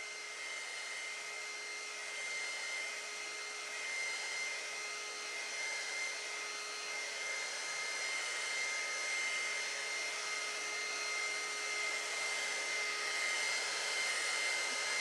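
A hair dryer blows continuously to dry paint on a DIY Halloween sugar skull, giving a loud, even whooshing drone with a steady motor whine and no pauses.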